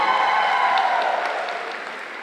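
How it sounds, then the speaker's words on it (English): Steady applause from the audience at a school district back-to-school convocation, filling the hall with dense, even clapping that holds for a couple of seconds and fades slightly toward the end, with no speech over it. "you're good to give her a round of applause"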